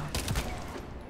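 A hand cannon fires in the video game The First Descendant as a quick cluster of sharp, punchy shots early on, followed by a fainter report at the end over low background game noise.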